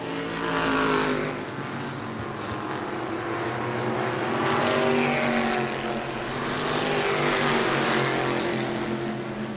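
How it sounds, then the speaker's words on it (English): Race trucks roar around the New Smyrna Speedway oval during a heat race, loud engine noise rising and falling as the pack sweeps past in waves, with no talk over it. "Butch Pierce up on the flag stand today, showing the field halfway here in this first heat race of the day"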